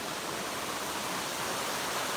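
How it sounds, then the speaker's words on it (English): Waterfall beside Erie Canal lock 17, a steady, dense rushing roar of falling water that stays loud and unbroken, with no voices over it. "You guys see that waterfall?"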